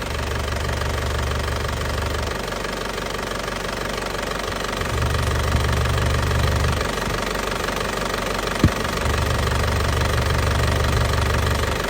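A warmed-up 2007 Isuzu Panther LS Turbo diesel engine idles with a steady, rough knocking clatter, loud and close, holding an even rhythm throughout with no voices.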